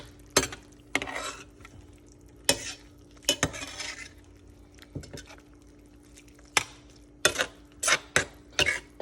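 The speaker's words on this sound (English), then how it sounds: "now it's all about mixing it together" A utensil stirs taco seasoning and water in a pan, giving sharp scraping clinks against the metal in irregular bursts over a faint background sizzle, close and clear with no talking.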